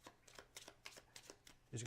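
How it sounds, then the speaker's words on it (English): Playing cards shuffled by hand during a board game, a quick run of crisp riffling bursts close to the listener, ending in a louder thump as the deck settles. "We are then going to shuffle these cards"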